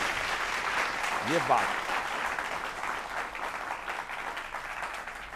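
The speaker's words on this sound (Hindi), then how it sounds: "एक बार दोनों हाथ उठाकर उन्हें धन्यवाद करते हैं और तालियां देते हैं।" Audience applause after a tribute to a poet at a political satire event, a steady broadband patter that fills the stretch, with a brief voice speaking over it.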